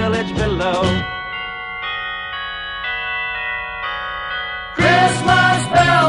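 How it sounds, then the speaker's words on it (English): Christmas bells ring out in sustained, shimmering tones, with layered chimes hanging between louder passages of music at the start and end. "Christmas bells, those Christmas bells,"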